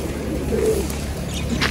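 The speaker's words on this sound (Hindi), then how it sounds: "आओ आओ कबूतर" A pigeon coos softly and repeatedly over steady low background rumble, close by, with no talking.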